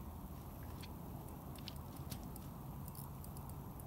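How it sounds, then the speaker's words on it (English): Steady broadband patter of rain falling continuously by a river in New Mexico, dense and even throughout, with faint scattered higher ticks of drops hitting nearby surfaces. "And it's raining."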